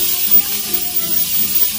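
Steady sizzling of onions sautéing in a hot pot, a continuous crackling hiss with small pops, close and fairly loud.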